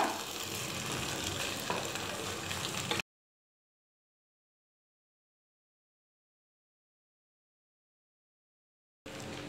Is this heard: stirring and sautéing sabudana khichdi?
yes